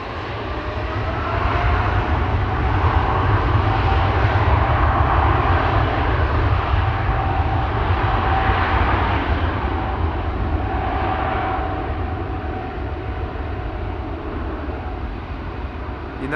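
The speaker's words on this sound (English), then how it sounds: "United 767 in the background." A United Boeing 767 roars loudly at Amsterdam Schiphol Airport, a powerful, sustained jet engine rumble with broad whooshing that holds strong and then eases slightly toward the end, with no voices.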